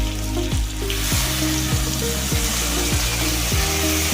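Fish curry spices and turmeric cooking down in oil with a splash of water, a loud dense sizzle running steadily with a regular rhythmic stirring scrape about every half second.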